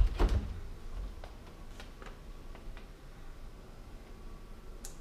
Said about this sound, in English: The cabinetry is Lido European cabinetry with soft closed drawers.